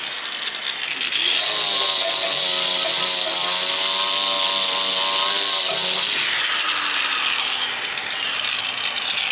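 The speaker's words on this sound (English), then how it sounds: "Gonna use the old grinder here to clean off the paint and gunk from around these." An angle grinder strips paint and grime off brake pedal assembly parts from a 1959 Ford Ranch Wagon. A loud, sustained whine begins after a moment, holds with a gritty hiss, then drops in pitch as the disc slows.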